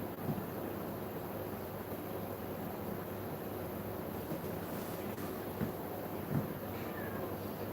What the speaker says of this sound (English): I don't know what you're complaining about, Cat.